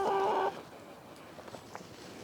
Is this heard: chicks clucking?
yes